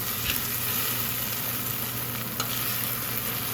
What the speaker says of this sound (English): So that's our sofrito cooking.